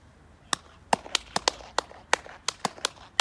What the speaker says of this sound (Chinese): 试一下这个拍手回音的效果，